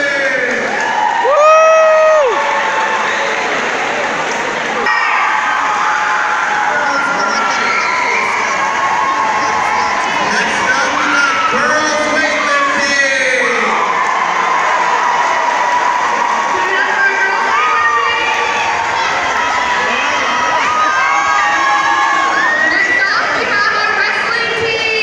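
A school pep rally crowd roars, cheers and shouts continuously for a sound check, with many young voices yelling and whooping in a loud, dense wall of noise that stays steady throughout.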